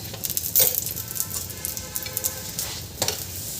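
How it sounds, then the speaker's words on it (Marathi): A stuffed beetroot paratha cooking in oil on a pan, giving a continuous close sizzle and crackle with a few brief louder pops. "असा दोन्ही बाजूनी छान असं खमंग भाजून घ्यायचं आपल्याला"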